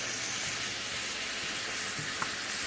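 A cup of hash browns fries in a pan, giving a steady, close sizzle throughout with a couple of small clicks near the end, no voices.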